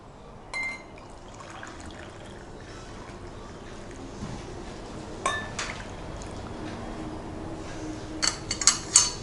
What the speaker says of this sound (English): I will begin by pouring the hot water in the glass that is labeled hot